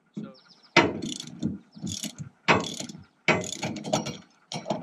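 Slip clutch nuts being loosened with a ratchet: several bursts of rapid metallic clicking in short spaced runs, close and fairly loud, with brief pauses between them and no talking.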